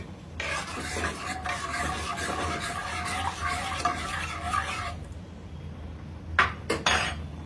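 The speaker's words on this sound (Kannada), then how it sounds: "ನಾನು ಇಲ್ಲೇ ಡೈರೆಕ್ಟಾಗಿ ಹೀಗೆ ಹಾಕಿ ಸ್ವಲ್ಪ ಚೆನ್ನಾಗಿ ಕುದಿಸ್ತೀನಿ ಉಪ್ಪು ಹಾಕ್ಕೊಂಡು" Masala and salt go straight into water set to boil in a pot, heard as metal scraping and rubbing against the pot for several seconds, followed by a few louder clinks of utensils.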